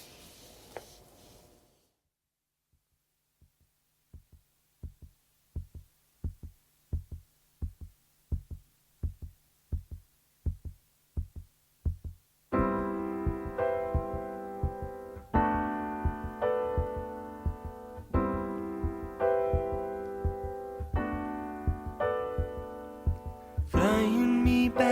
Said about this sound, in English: There's a very slow intro to this, which sounds a bit like a heartbeat.